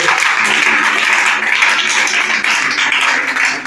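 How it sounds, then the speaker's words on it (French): A church congregation applauding during a sermon, with dense, loud, sustained clapping close by that fills the whole stretch without a break. "Acclamez pour Betty"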